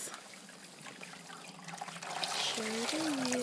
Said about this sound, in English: Here's Vito siphoning some water.